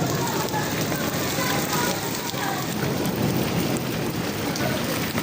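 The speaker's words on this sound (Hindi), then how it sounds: "मुल्तान में शदीद ओले पड़ रहे हैं जी इस वक्त।" A heavy hailstorm pounds down in Multan, Pakistan, with dense, continuous hiss and patter of hail and rain on surfaces and a low rumble, steady and loud throughout.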